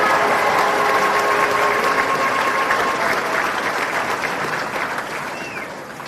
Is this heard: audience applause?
yes